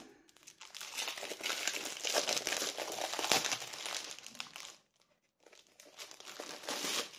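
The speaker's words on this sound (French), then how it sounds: "Désolée pour le bruit du papier." Paper crinkles and rustles steadily up close, briefly stops, then resumes with more crisp crackling.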